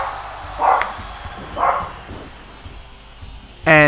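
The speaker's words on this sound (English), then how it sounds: "That's my dog being stupid in the background." A pet dog barking in the background of a home room, two short muffled barks spaced about a second apart, fairly distant, followed by quiet before a voice starts speaking at the end.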